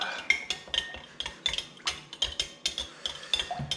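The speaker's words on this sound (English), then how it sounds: "Stir that all up." Mayonnaise being stirred into a marlin kebab mixture in a bowl, a rhythmic series of scraping clinks from a utensil against the dish, close and fairly loud, about a dozen strokes.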